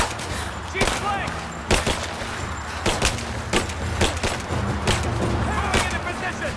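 Gunfire in the Rise of the Tomb Raider action game: repeated sharp shots in irregular bursts, loud and close, over a rumbling battle background with voices shouting among the shots.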